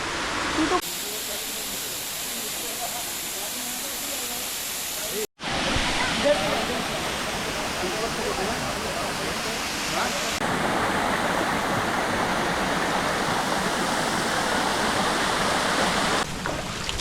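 A waterfall's steady rushing roar at Khopoli near Mumbai fills the clip, with a momentary cutoff partway through before the dense splashing resumes.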